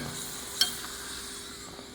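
Puri frying in hot oil, a steady faint sizzle with one brief sharper crackle as the dough goes in, no voices.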